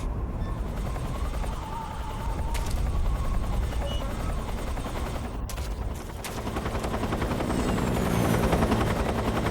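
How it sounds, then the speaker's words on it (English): Helicopter rotor droning steadily through a Metal Gear Solid 3 scene, loud and continuous, with bursts of gunfire and game noise layered over it and the engine building slightly toward the end. "how did that helicopter not see me?"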